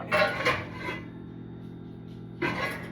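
A cast-iron skillet scrapes and clanks against pots and pans in a home kitchen, with a couple of close rasping rubs, a quiet pause, and then another scrape.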